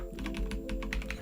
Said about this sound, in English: I'm typing N-S-E-N-W